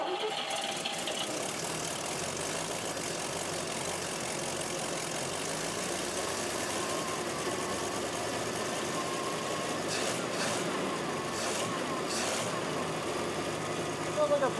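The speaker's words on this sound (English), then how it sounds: "Sounds like a brand new engine." A car engine runs steadily at idle for a long stretch, a constant close mechanical drone with faint voices underneath.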